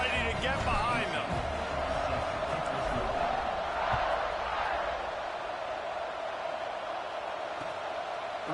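Stadium crowd in the College Football 26 video game, a broad steady roar of cheering that swells early and holds through the kickoff, with an announcer talking over it.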